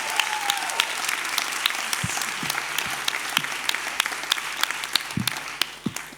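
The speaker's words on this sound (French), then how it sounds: "je vais aussi vous demander des énormes applaudissements pour Mathilde" Audience applause fills a conference room at a French science-outreach congress, a dense steady wash of many hands clapping with a few louder sharp claps standing out nearby, continuing without speech.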